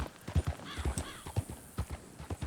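Rhythmic clip-clop of horse hooves trotting in Red Dead Redemption 2, with a brief whinny partway through, moderately loud and with no talking.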